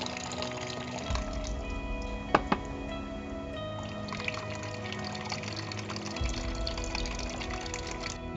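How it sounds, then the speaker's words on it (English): Coolant water pours out of the radiator of a 1991 Suzuki TS200R two-stroke dirt bike into a bucket, a soft continuous close splashing and trickling with a couple of sharp knocks partway through. "I'll dump out the water, and hopefully all the green comes with it"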